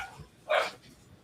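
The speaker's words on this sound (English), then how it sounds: "So the dogs have become active." A dog gives a single short bark at close-to-mid distance, rising sharply out of quiet background noise and fading quickly.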